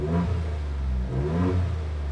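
A 2.7-liter EcoBoost V6 in a Ford Bronco 6x6 Dark Horse revs up twice in quick bursts, rising in pitch and settling back to a rumbling idle, close and clear.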